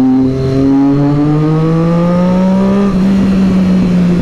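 A Triumph Street Triple 675 motorcycle accelerates hard and close, its engine note climbing steadily through the revs with one brief dip near the end, loud and alone.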